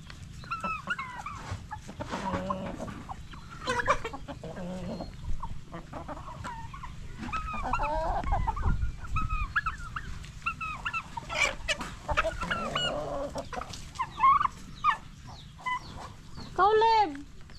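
Turkeys and chickens at feeding time in a farmyard, crowing, clucking and gobbling in overlapping bursts, with a dog barking among them and people talking at times.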